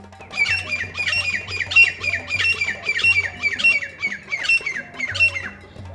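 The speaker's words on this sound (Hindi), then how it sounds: "इस तीतर की आवाज तो आपने कई बार सुनी होगी," A grey francolin calls repeatedly in Desert National Park, Jaisalmer, loud and close, in a rhythmic series of harsh, rising squawking notes with a faint low hum underneath.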